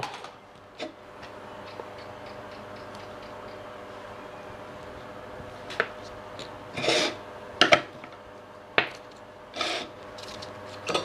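A headlamp battery terminal being roughened with sandpaper or rubbed on concrete to strip its coating before soldering: faint steady hum broken by several short gritty rasping strokes, close and alone.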